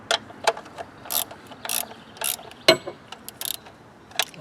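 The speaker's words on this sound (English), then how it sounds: "I will have to use the ratchet for this guy" A ratchet wrench turning a bolt on the upper intake manifold of a GM 3800 3.8L V6 in an Oldsmobile 98, giving crisp clicking bursts in short, uneven strokes, close and clear with no talk.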